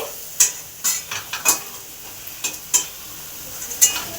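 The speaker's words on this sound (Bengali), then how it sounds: "বড়া ভাজা দেখুন কি সুন্দর লাগছে না" Gram-flour fritters (bora) frying in a wok: sharp metallic clinks and scrapes of a spatula against the wok repeat at uneven intervals over a low sizzle, close and clear, with no talking.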